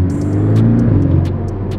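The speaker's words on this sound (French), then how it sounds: "Ça ronfle exactement comme il faut pour un flat 4." Porsche 718 Cayman S flat-four engine with sport exhaust accelerating, a loud, steady low rumble with rising drone held close throughout, no talking over it.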